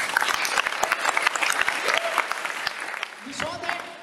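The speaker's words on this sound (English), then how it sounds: "Clap for his success." Crowd clapping during a live interview feedback session, a burst of sharp, individually distinct claps that thins out and fades, with a voice speaking over the end.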